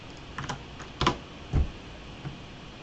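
Keys tap on a computer keyboard as a terminal command is entered: a few sparse, close clicks, with a couple of firmer strikes, in an otherwise quiet room.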